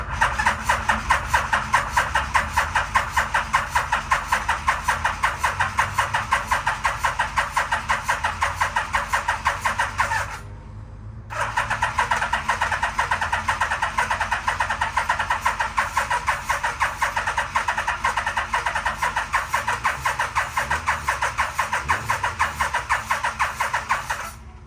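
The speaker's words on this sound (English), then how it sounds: "now we're gonna try to test fire this thing" A 1987 Yamaha engine fires up after its carburetors are reinstalled and runs with a loud, steady, rapid pulsing note, cuts out briefly near the middle, then restarts and keeps running.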